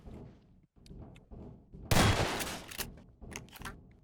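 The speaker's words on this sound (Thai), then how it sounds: "ปืนกระสุน SMG" Burst of SMG gunfire in the Garry's Mod video game on a horror map, a loud dense volley of about a second followed by quieter scattered shots and noise, with no talk.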